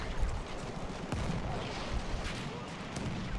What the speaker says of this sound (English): There's so many people shooting at me as I get over the hill.